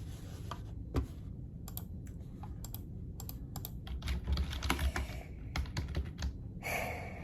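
Clicky typing on a computer keyboard, irregular bursts of keystrokes close by, with short pauses between runs.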